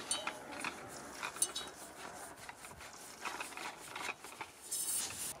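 FIRECORE telescopic laser pole sections are screwed together by hand, giving faint ratcheting clicks and light metallic rubbing in a quiet room.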